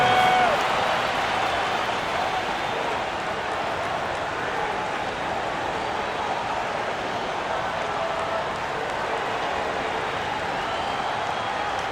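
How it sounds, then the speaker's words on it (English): An arena crowd at the 2016 NBA All-Star Game cheers and applauds in a dense, steady roar that fills the whole stretch with no pauses. "Give yourself a round of applause."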